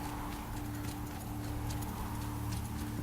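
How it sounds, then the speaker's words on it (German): A rideable Strider machine in Horizon Zero Dawn trots along with a steady rhythmic clip-clop of hoof-like footfalls over a constant low hum, fairly close and unbroken by speech. "Ein Läufer ist eine Maschine, die man reiten kann."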